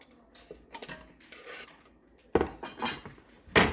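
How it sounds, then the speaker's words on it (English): Tasso ham dropped into a pan of melted fat to brown, with scattered light clinks and clatters of utensils and cookware, then louder bursts of scraping and sizzle toward the end, with no talk. "we're going to put our tasso in here"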